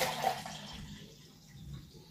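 Homemade ginger beer mixture pours into a container with a brief liquid splash and gurgle that fades into a soft trickle, fairly quiet and close.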